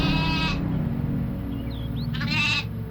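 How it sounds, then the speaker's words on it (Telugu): Sheep bleat twice, one loud close cry at the start and another near the end, over a steady low background drone. "అవి గొర్రెలుగా మారిపోయాయి."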